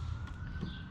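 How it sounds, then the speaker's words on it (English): Sirens wail steadily in the distance outdoors, a continuous faint tone persisting alone through the moment behind a low rumbling background, during an oil change on a Honda lawnmower. "Sorry for the sirens in the background and the Woody the Woodpecker, but you know,"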